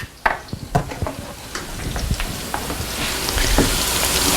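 Fresh kale added to a hot pan after other vegetables have turned crisp-tender, setting off a loud, close sizzle with clattering and stirring that swells into steady frying hiss.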